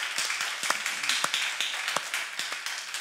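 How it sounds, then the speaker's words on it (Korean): Youth in a church congregation clap together, producing a close, uneven patter of hand claps that continues steadily for a few seconds. "우리 청소년들 박수 한번 할렐루야"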